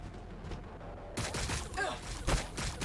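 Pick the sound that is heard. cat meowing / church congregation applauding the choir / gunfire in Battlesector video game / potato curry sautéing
gunfire in Battlesector video game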